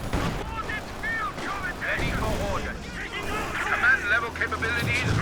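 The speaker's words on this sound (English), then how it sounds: "And the mortar." Mortar and artillery explosions in a Company of Heroes 2 match with a barrage of Soviet fire, booming rounds landing repeatedly across the clip, mixed with battle noise under a commentator's talk.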